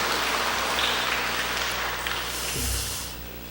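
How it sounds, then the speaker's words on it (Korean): A church congregation applauds during a Sunday worship service at Jeonju Seomun Church, a dense, steady patter of many hands clapping in a reverberant sanctuary, fading slightly toward the end. "우리 하나님께 영광의 박수 한번 올려드렸으면 좋겠습니다"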